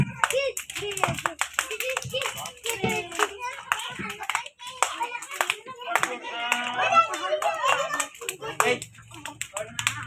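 Children clapping hands at a flowers day event, a fast, uneven burst of many claps that runs throughout, with children's voices and talk mixed in.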